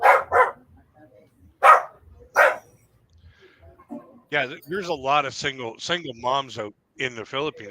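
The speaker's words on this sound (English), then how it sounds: "hey, sorry for my dogs." A few sharp, loud dog barks ring out in quick pairs, followed by a person talking nearby.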